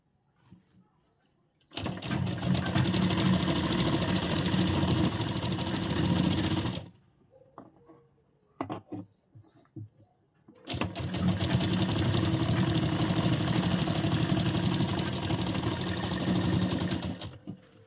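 Two long stretches of a sewing machine running steadily, stitching a straight seam on a blouse, each several seconds long with a brief quiet gap of handling noises in between, close and continuous.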